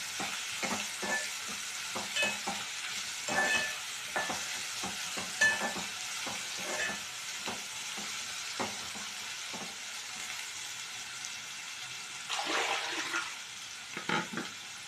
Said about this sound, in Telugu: ఒక 2-3 మినిట్స్ అట్లా కొంచెం ఆయిల్ వేగిన తర్వాత శనగలు వేసుకున్నాం